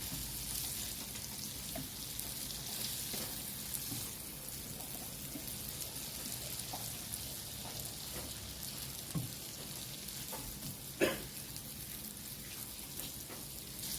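Blanched French beans tossed and mixed in a pan with butter and garlic, a quiet continuous sizzle with occasional soft scrapes and one sharper clink near the end.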